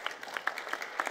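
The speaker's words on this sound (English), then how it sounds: "let's give all our panelists a round of applause" Applause from an audience at a panel discussion on urban governance, a brief burst of many hands clapping in steady, dense patter, moderately loud and without talk.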